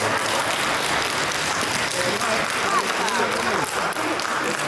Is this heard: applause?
yes